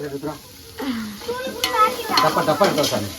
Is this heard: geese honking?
no